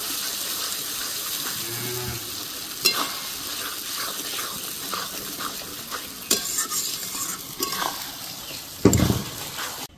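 A spoon stirs chopped tomato into a pan of frying masala with lightly browned onion for a bhetki fish-bone curry. A steady close sizzle carries scattered scraping strokes and a brief low hum near the start, with no talking.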